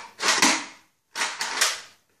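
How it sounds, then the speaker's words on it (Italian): A Nerf Strike Elite blaster fires darts in two quick bursts, each a sharp close mechanical snap and whoosh with a short clatter, separated by a brief pause. "E adesso ne sparerò quattro."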